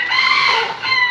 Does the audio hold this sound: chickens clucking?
yes